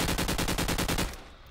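Steady automatic gunfire in Call of Duty 4, a regular burst of about ten evenly spaced shots at moderate level that stops abruptly and leaves a short fading tail.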